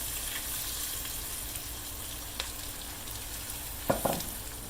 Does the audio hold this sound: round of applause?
no